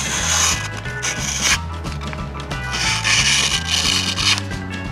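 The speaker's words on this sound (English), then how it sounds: "we want to make sure we keep the sandpaper in the round rotational angle of the commutator" Sandpaper rubbed around the copper commutator of a Lincoln SA-200 welder generator to seat new brushes, a rhythmic scraping rasp in repeated strokes, close and fairly loud, with a steady low machine hum beneath.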